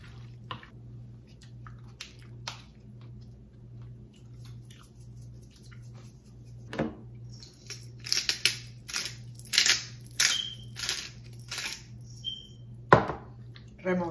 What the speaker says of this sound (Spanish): Removemos muy bien